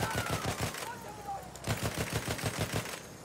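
A bomber's mounted gun in Battlefield 1 fires a fast, steady stream of shots over engine drone, with a brief pause midway before the firing resumes.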